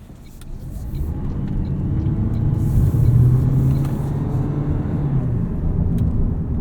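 A 2023 Toyota Prius Limited AWD hybrid pulls away from a stop, its engine note and road noise swelling steadily from inside the cabin, with no talking.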